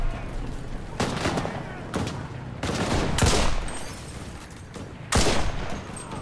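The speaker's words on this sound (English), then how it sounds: "We're getting shot at, they know we're here." Bursts of gunfire in the game Garry's Mod, several sharp volleys and loud single shots spaced irregularly across the stretch, fairly close, with no talk.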